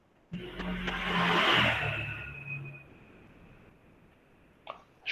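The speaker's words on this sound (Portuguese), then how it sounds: "Passou uma moto aí na casa da Bruna." A motorcycle passing by outside a house, its engine rising quickly to a loud buzzing peak and then fading away over a few seconds, heard from indoors.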